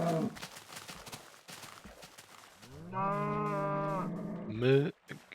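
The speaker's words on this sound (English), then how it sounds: "Oh, the cows." Cows lowing in a video game, one long drawn moo followed by a short higher call, heard after faint background game sounds and quiet murmuring.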